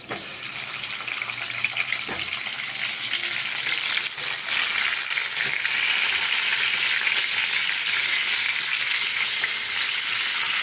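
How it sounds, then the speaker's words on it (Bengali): Potato pieces coated in salt and turmeric fry in hot oil with a dense, continuous hiss and sizzle that stays loud and even throughout, with faint occasional clinks. "এবারে তেলটা গরম করতে দিয়েছি আলুটা একটু ভাজবো"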